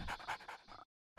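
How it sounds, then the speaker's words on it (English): An attack dog unit in Red Alert 2 Yuri's Revenge pants in quick, close breaths, several rhythmic huffs that stop abruptly before a brief new sound at the end. "I made a dog unit first"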